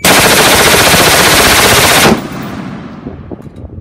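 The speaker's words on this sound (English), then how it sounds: "Now we're going to do a 30-round burst with a standard H buffer and the standard bolt carrier group." A 30-round full-auto burst from a rifle with a standard H buffer and standard bolt carrier group, a loud, dense, rapid string of shots lasting about two seconds before cutting off into a fading echo.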